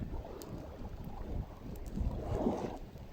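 Low, sloshing water laps steadily against a hull, swelling slightly near the end, with a faint breath of wind in the background.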